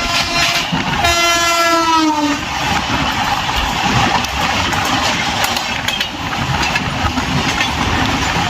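Bhopal Shatabdi Express (12002) running at 150 km/h: a steady loud onboard rush and rumble of the train at speed, with a sweeping horn-like tone over the first two seconds, then continuous wheel and rail noise.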